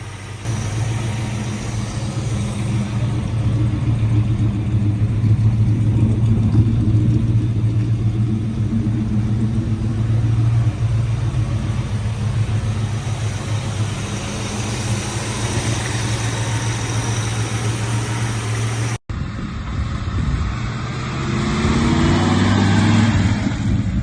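A 1954 Chevy 3100 truck engine running steadily, a close, loud low idle rumble that holds throughout, with a brief break near the end before the running resumes.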